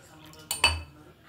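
A metal spoon mixes green pigeon peas, chillies and tomatoes in a vessel, giving two quick, sharp, close clinks against the pot over a quiet background.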